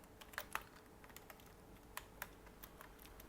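Code being typed on a computer keyboard at a quiet desk, a handful of light, sparse key clicks with short pauses between them, fairly close and otherwise quiet.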